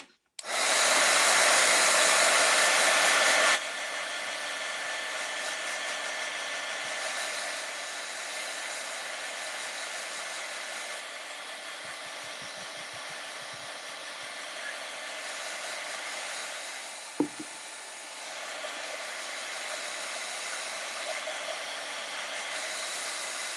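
A hair dryer blows on a DIY mason jar fall decoration, a loud steady whoosh that drops slightly in level after the first few seconds and keeps running with a brief click partway through.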